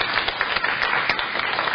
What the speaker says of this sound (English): I would like us to give them also a round of applause.